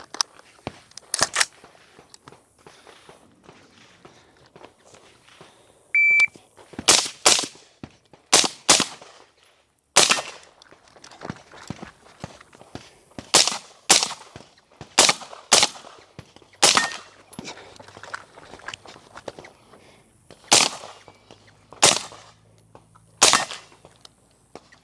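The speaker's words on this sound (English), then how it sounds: "Been shooting the Geissele URGI PSA build" Gunshots from a Geissele URGI PSA rifle build, 14.5-inch barrel, at an outdoor range: loud, sharp single reports spaced irregularly, sometimes in quick pairs, with quiet gaps between.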